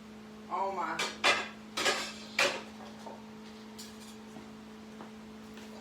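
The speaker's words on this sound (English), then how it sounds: "Get it out of my glass dishes here." Old glass baking dishes, Corningware-style, clinking and knocking together in a kitchen as they are lifted out, with a few sharp close clatters followed by quieter handling over a low steady hum.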